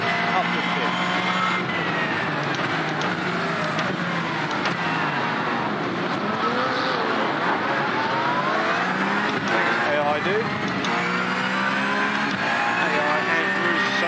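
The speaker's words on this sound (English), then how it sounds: "pop the car into gear, and then go full throttle" A Porsche GT3 Cup car in the iRacing sim launches at full throttle, its engine loud and continuous through rising and falling revs as gears change, with other cars roaring nearby throughout.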